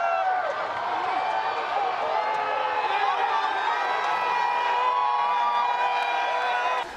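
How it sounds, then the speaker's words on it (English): A crowd at a high school state championship game roars and cheers for the new champions, the Royals, a continuous wall of shouting voices and whoops that carries for several seconds without letup. "Oh, listen to the cheer."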